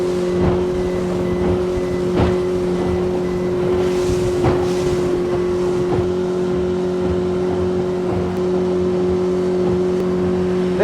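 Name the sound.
wind blowing over river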